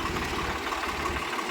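A farm tractor engine idles steadily at a sugarcane field while an implement is hitched, a continuous low rumble filling the short stretch without talk.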